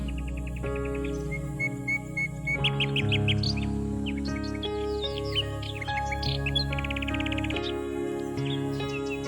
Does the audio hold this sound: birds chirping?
yes